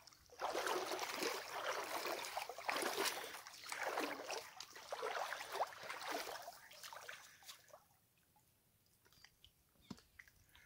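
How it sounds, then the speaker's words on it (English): Water slaps and laps against the underside of a houseboat, a run of wet, irregular splashing knocks that fills most of the span, then drops to near quiet with a few faint clicks. "It's the water slapping underneath."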